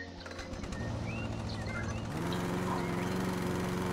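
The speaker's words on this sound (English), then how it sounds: "this lawnmower will go through stuff, apparently." A lawnmower in the game House Flipper gives a steady mechanical drone that rises and shifts pitch partway through as it speeds up, heard over a bed of birdsong and cooing doves.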